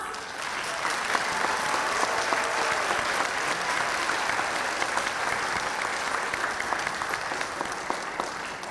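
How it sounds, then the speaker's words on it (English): A crowd applauds steadily at an elementary school sixth grade graduation ceremony, a dense, even wash of many hands clapping that holds at a constant level throughout, with no talking over it. "Let's give them a round of applause."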